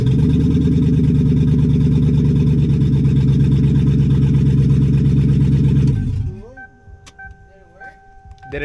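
A 30-year-old Lexus engine idles after a transmission swap with a $50 secondhand gearbox: a loud, steady, close mechanical hum runs for about six seconds, then cuts off, leaving quiet surroundings with a few faint high beeps.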